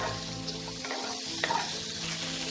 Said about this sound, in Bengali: মশলাটাকে 1 মিনিট কষিয়ে নেওয়ার পর আমি এতে একটা টমেটো ছোট করে কেটে